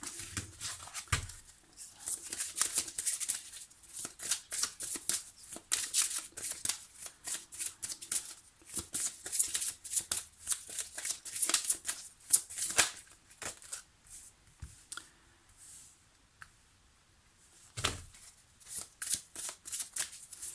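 A deck of oracle cards being shuffled by hand, continuous riffling and flicking bursts close up, with brief pauses between runs and no talking.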